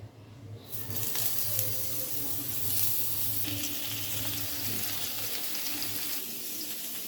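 Pointed gourd (potol) pieces frying in oil in a frying pan, a steady close hiss that starts abruptly and holds evenly, with no speech.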